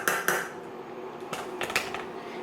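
A metal spoon scrapes and clanks against a pot while pesto is mixed into pasta, with a few sharp knocks early on followed by softer scraping clatters, close and fairly quiet.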